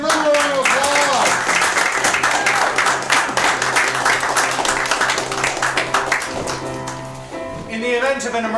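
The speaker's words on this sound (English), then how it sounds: "Let's give them a round of applause." Audience applause at a theatresports improv show, a thick steady roar of clapping that fills most of the stretch, with voices and tonal sounds running underneath and taking over near the end.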